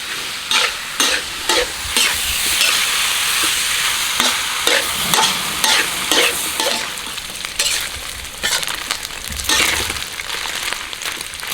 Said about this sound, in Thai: ก็จะผัดไปเรื่อยๆ ให้น้ำมันอ่ะเขาออกมา จากมันหมู